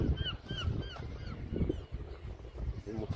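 Seagulls near moored boats cry out in repeated short squawking calls, a few close and clear, over a windy outdoor background with some intermittent voice-like sound.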